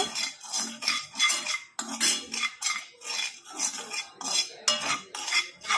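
A spoon stirs a thick mixture in a pan on the stove, working out lumps with quick, rhythmic metal scrapes and clinks in repeated bursts, close by and with no talking.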